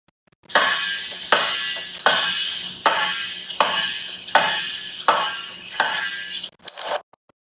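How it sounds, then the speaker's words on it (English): A ball bounces on a hard surface in a regular rhythm, seven sharp impacts about once every 0.8 seconds, each ringing briefly, close and clear with no talk. "That was the sound of a ball bouncing."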